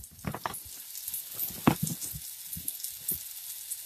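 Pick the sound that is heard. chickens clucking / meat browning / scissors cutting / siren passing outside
meat browning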